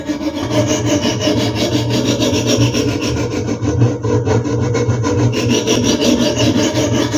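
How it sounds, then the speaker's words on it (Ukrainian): A knife bevel is ground on a Hapstone 100-grit diamond sharpening stone, making close, loud, rhythmic rasping strokes that repeat back and forth without pause. "На ньому я підготую підводи ножа до його подальшого заточування."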